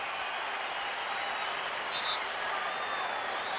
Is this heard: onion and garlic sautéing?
no